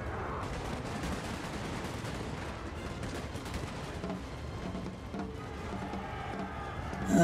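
Russian troops firing muskets in the video game Napoleon: Total War, a dense, continuous crackle of distant volleys rolling on with a steady battlefield roar and no break.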